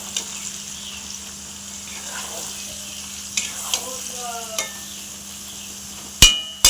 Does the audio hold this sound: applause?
no